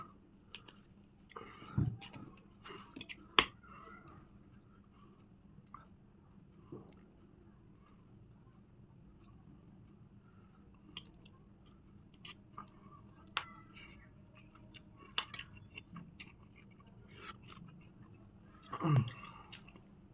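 Someone chews very spicy food close to the microphone, with quiet, irregular wet mouth sounds, soft bites and occasional clicks.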